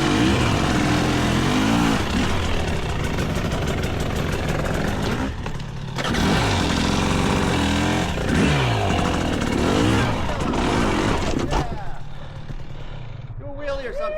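A GasGas EC300 GP two-stroke dirt bike ridden on singletrack trails in Nova Scotia, its engine revving and blatting loudly and up close, with a short drop in the middle and a fade near the end.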